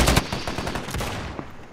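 Gunfire in a first-person shooter video game: a rapid burst of automatic shots cracks up front and is then followed by quieter trailing rattles and echoes, with no talking.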